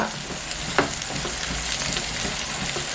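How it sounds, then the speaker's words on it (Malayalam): Curry leaves drop into hot frying oil while a chicken dish cooks, giving a loud, continuous crackling sizzle with a few sharper pops and a stirring scrape, close up and with no voices. "ഇതിലോട്ട് നമ്മൾക്ക് ഇതേ കുറച്ച് കറിവേപ്പില ഇട്ട് കൊടുത്തേക്കാം"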